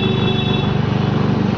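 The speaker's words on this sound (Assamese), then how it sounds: "তই গণেশক ফোন কৰচোন" A telephone rings in a steady repeating electronic tone, loud and close, with a dense low hum beneath and no voices over it.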